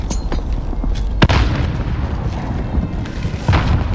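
Frag grenade detonating in the video game Warzone, a heavy boom amid continuous loud battle noise, with a sharp crack just past the first second and another burst near the end.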